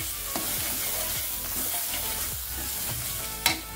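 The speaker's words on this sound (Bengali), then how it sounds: "ভালো করে এখন আমি সবগুলোকে কষিয়ে নেব" Kashmiri chili powder and cumin powder sautéing in a pan for a potato curry, with a steady oily sizzle and repeated scraping stirs throughout, then a sharp clink of the utensil near the end.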